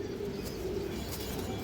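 A large old-breed Bagha female pigeon gives a faint, low, drawn-out coo against a quiet, steady background.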